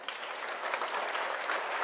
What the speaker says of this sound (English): So a big applause to the university.